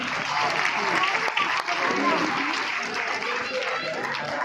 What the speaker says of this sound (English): Clapping everyone.